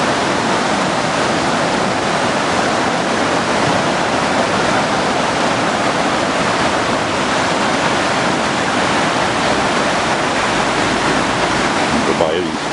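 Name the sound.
rushing floodwater of a river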